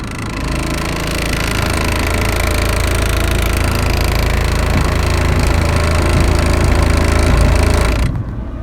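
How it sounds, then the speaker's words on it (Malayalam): A Mahindra XUV500 engine runs with the dashboard and steering column vibrating, a loud, steady rattling drone with a fast buzzing pulse that holds evenly for several seconds, then cuts off abruptly near the end. "സ്റ്റാർട്ട് ചെയ്തിട്ട് ക്ലച്ച് വിടുന്ന ടൈമിൽ ഇത് മൊത്തമായിട്ട് ചെറുക്കുക എന്നുള്ളതാണ്"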